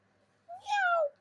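A pet cat named Nariela gives a single clear drawn-out meow that rises then falls, up close with no talk over it.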